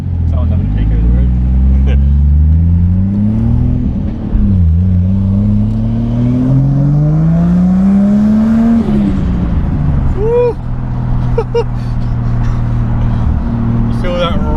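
A Ford FG XR6 Turbo on a dyno revs hard and loud, its engine note rising and falling in long sweeps over steady traffic noise, with brief voices in the background.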